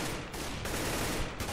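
Gunfire from Counter-Strike: Global Offensive on the de_mirage map, a dense, continuous burst of rapid shots at steady loudness with no pause for the whole stretch.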